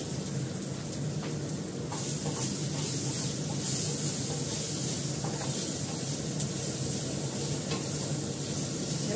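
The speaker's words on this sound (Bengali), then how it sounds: "মেথি ফোড়ন দিলাম," Fenugreek seeds sizzle in hot oil as a tempering for a fish and potato curry, a soft, even hiss and crackle that brightens after about two seconds and continues with faint stirring, no talking.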